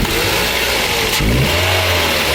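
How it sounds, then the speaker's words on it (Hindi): Toyota Corolla engine revving hard with a rough, knocking note, a loud continuous roar that surges midway and holds steady close by. "ये गाड़ी ज़बरदस्त नॉकिंग कर रही है"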